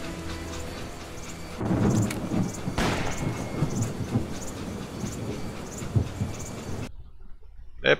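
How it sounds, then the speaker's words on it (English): Thunderstorm thunder in the PC game Call of Juarez: a deep, loud rolling rumble with rain-like hiss and a sharper crack near the middle, continuing for about seven seconds before cutting to near silence. "The storm is coming. I can hear the thunder."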